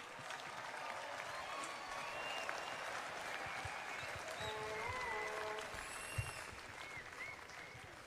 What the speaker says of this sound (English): Let us stand up and give His Excellency a rousing round of applause.